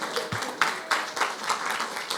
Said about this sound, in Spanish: Un aplauso a nuestra colaboradora